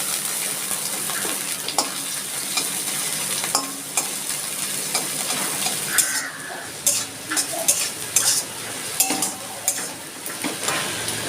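Chopped ginger fries in a pan, a moderate sizzle broken by intermittent stirring scrapes and utensil knocks that grow busier toward the end.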